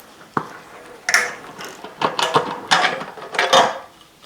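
Hand ratchet loosening 13 mm bolts on a small 196cc diesel engine's fuel tank: a series of sharp clicking ratchet bursts, close and fairly loud, with short pauses between strokes.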